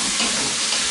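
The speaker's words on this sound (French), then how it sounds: "Donc je mélange tout bien." Butternut squash soup ingredients stirred in a Cookeo, a brief close sizzling scrape with a steady hiss and no talk.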